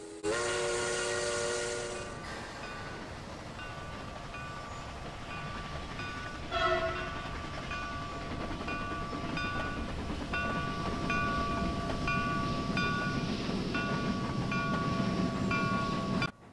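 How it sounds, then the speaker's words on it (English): A commuter train hauled by a forward-facing 314 locomotive pulls into a Cincinnati station, opening with a loud sustained horn blast, then a steady rumble of wheels and cars that grows heavier as it rolls close by. No talking. "Another standard commuter pulls in, this time with a forward-facing 314."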